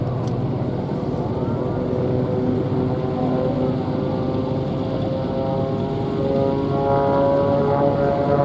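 Sukhoi Su-26 and Su-29 aerobatic propeller planes of a display team pull up and split apart at an air show, their engines droning steadily from a distance with a slowly shifting, layered tone that grows a little louder toward the end.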